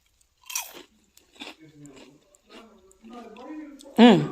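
Crispy cauliflower nuggets crunched and chewed close to the mic, with a few crackling bites spaced between soft talk and a loud crunch near the end.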